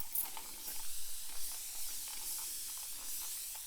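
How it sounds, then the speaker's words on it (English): Spray bottle misting water onto a deep wave wig, a series of quick faint hissing spritzes close by, with no talk. "let's go ahead and spray it down with water, brush it out a little bit"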